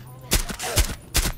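Three sharp gunshots fired a fraction of a second apart in Rainbow Six Siege, loud and close against quiet game ambience.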